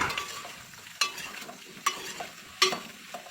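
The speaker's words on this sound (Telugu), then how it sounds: "వేసుకున్న తర్వాత మంచిగా కలుపుకోవాలి ఒకసారి." A spoon stirs pieces of bottle gourd with curry leaves in a pan while a fish curry cooks, giving a soft continuous sizzle with a few sharp scraping knocks against the metal, quiet and close, with no talking.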